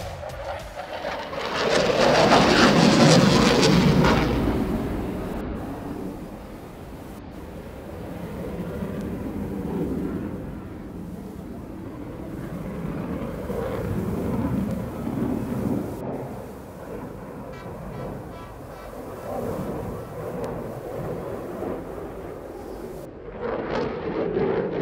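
An RAF Typhoon jet flies a daytime display at the 2016 Scottish International Airshow, giving a loud roaring swell early on that settles into a sustained distant rumble of jet noise across the open sky.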